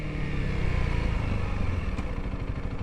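A Honda CRF300L single-cylinder motorcycle engine thrums close and steady as it drops down into first gear, a low throbbing pulse with slight rev changes and a faint click near the end, no voices.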